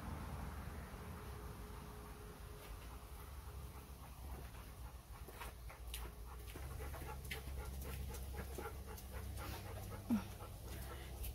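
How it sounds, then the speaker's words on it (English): A dog panting in a quiet room, rapid soft breaths repeating close to the microphone, faint against low background hiss, with a brief small whimper-like sound near the end. "my dog went on the table"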